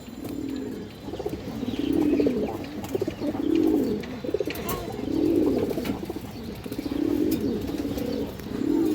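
Lofted pigeons of mixed fancy breeds coo in repeated rolling phrases, about six throaty calls in a regular rhythm, close and clear with a faint flutter of wings.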